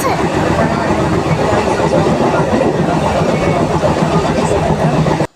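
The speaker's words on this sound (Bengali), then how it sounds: "এবার ট্রেন চলছে দ্রুত গতিতে" A train running at speed on a journey to a wedding, heard from inside as a steady loud rumble with continuous rattling throughout, ending abruptly.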